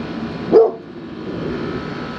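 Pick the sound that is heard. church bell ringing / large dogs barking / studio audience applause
large dogs barking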